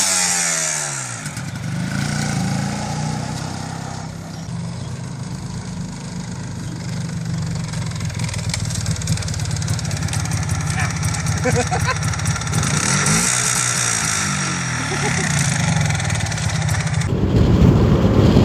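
A motorcycle engine idling and revving in a quiet residential area, a loud, close mechanical drone swelling and easing with throttle blips over about eighteen seconds.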